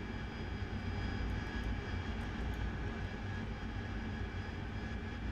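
Jet engine of an AV-8B Harrier in the DCS flight simulator during a night close air support mission, a steady, loud, broadband roar with a whining tone, holding constant without talk.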